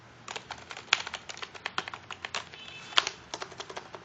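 Typing on a Xaken II gaming keyboard with soft-feeling keys: a close, steady run of light clicks and taps with a couple of sharper louder strokes, no talking over it.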